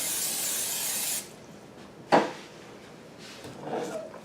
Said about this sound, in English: I'm going to spray the pan with a non-stick cooking spray.